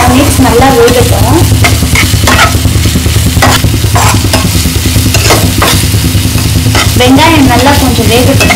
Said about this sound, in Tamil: இப்போ நல்லா mix பண்ணிக்கோங்க. வெங்காயம் ஒரு கால் மிக்ஸ் நல்லா வேகட்டும்.